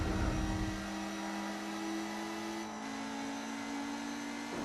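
A Lotus Elise engine in Gran Turismo 4 holds a steady revving drone with a thin tonal whine, fairly faint and unbroken for the whole stretch.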